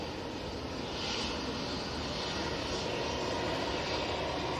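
Ryanair Boeing 737 Max jet arriving, a steady distant roar of engine noise that holds evenly throughout, moderately faint with no talk.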